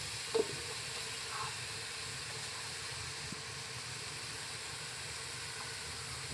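Whole cloves, cumin and cinnamon sizzle in hot oil in a pan, the start of a turnip and fenugreek sabzi, making a steady, close frying hiss with no talking.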